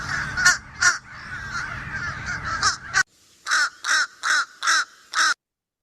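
Juvenile fish crow giving short, clipped calls, a rapid series of about a dozen evenly spaced notes, close and loud, the first half over low background rumble and the rest against near silence.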